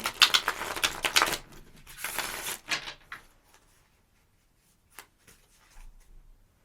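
Tarot cards are riffled and shuffled in quick papery bursts, then a few soft taps and slides before it goes quiet.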